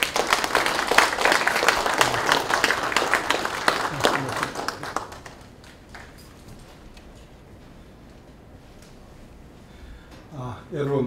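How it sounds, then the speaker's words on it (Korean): Audience applause in a lecture hall at a forum welcoming a professor to the podium: dense, loud clapping for about five seconds, then fading to quiet room tone before a brief rise at the end. "그럼 박수로 이제 강사님을 응해 주시면 고맙겠습니다"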